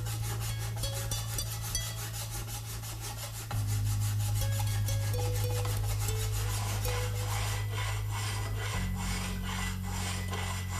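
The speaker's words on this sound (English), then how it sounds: "now move over to a much finer file" A finer file rasps over metal fittings on a wooden hand plane in repeated close strokes, a rhythmic scraping that grows louder partway through, with no speech.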